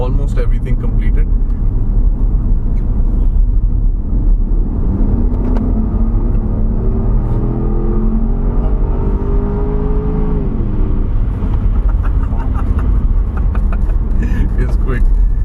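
Cabin sound from a Porsche Cayenne Turbo on the road: a loud, steady engine and road rumble that rises in pitch as it accelerates, then eases, continuous and close throughout.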